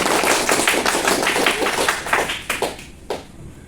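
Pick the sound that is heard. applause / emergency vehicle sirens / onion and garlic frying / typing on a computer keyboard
applause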